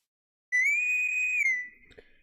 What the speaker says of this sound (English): you hear the boatswain's whistle, the bosun's whistle